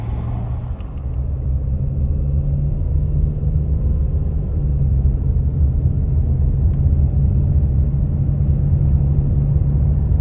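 A car climbs a steep, winding mountain road toward Mt. Washington, New Hampshire, its engine a loud, steady low rumble with road noise, continuous and close, no talk.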